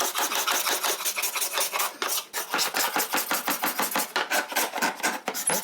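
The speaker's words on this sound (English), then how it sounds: "we're going to do that manually by hand with the hand scraper, all the corners that we couldn't get into" A hand scraper rasps across the corners of a hardwood floor being refinished, quick repeated strokes in a steady back-and-forth rhythm, close and loud with no talking.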